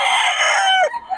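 A bull stag rooster crows once, loud and close, a strained harmonic call that holds briefly and then cuts off.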